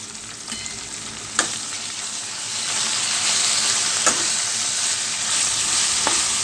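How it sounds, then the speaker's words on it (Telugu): Ginger garlic paste frying in a pan for a potato curry sizzles in a steady, bright hiss, with occasional sharp clinks of a spoon scraping and stirring, close and fairly loud, with no talking. "అల్లం వెల్లుల్లి పేస్ట్ వేసుకొని కలుపుకోవాలి."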